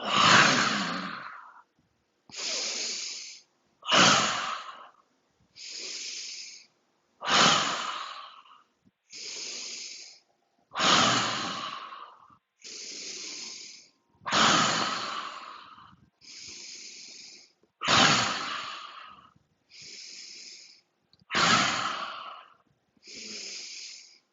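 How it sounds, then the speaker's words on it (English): Rhythmic breathing during a qigong exercise session, with a steady series of about a dozen breaths, each a slow nasal inhale followed by a breathy exhale through the mouth, close and clear with short pauses between. "inhale through the nose, exhale mouth"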